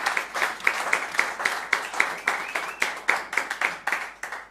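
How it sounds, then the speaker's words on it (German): Applause from a small audience after a chamber octet concert in Leipzig, rhythmic claps with distinct individual hits that rise and fall in bursts, close and moderately loud. "auch nochmal einen Applaus"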